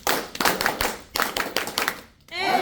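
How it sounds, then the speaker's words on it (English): A group doing a rhythmic Edmark International clap at a gathering, several sharp bursts of clapping in quick succession, followed by a voice speaking. "we can acknowledge with the best Edmark International clap to our mighty Creator"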